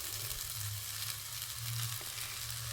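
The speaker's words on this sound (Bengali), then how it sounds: "তো এই যে চাউমিন বানিয়ে নিচ্ছি" Chow mein with potato, onion, egg and a little carrot sizzles continuously in a pan, a close, steady frying hiss with a low hum underneath.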